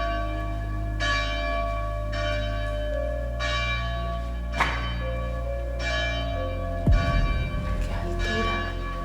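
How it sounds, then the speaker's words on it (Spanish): Church bells toll slowly and loudly near an abandoned 1901 school boarding house, several heavy strikes ringing out in an even rhythm with long humming decays, alone without talk. "Las campanas sonando de fondo."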